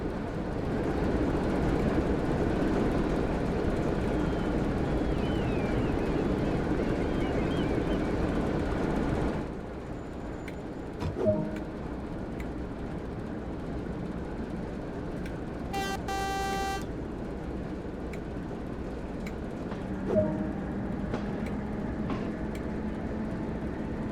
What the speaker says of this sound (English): Great work, the locomotive is on the move.